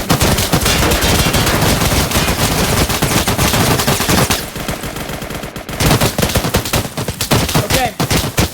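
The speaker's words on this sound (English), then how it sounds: "Everybody, start shooting." Rapid gunfire in a video game set during a basic training session, dense bursts of automatic shots crackling continuously, loud and close, with a brief quieter lull midway before firing resumes.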